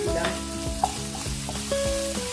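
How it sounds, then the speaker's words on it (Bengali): Vegetables with carrot, ginger paste and green chili stir-frying for Chinese paneer, a steady close sizzle broken by quick rhythmic scrapes of a spatula against the pan. "সবজিটা আমি ভালো করে নেড়ে নেব"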